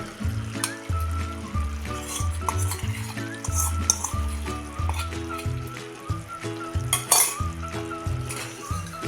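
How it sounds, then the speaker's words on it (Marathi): Spiced oil poured into an amla pickle and stirred: a spoon scrapes and clinks against the pot in steady repeated strokes, with a light sizzle underneath. "ते तेल आता आपण ह्यामध्ये ओतून घेऊया"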